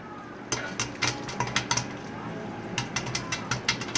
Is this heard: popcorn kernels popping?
yes